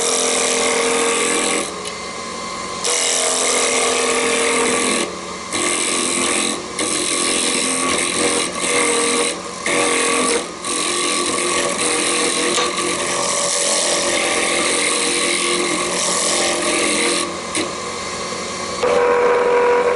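A wood lathe spins steadily while a sharp gouge cuts a chess pawn, giving a continuous close whir and scraping hiss broken by short pauses as the tool is lifted from the wood.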